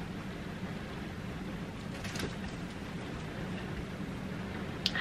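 Steady rain falls outdoors, a dense continuous hiss that stays even and moderately loud throughout, with a couple of brief sharper patters near the end and no voices.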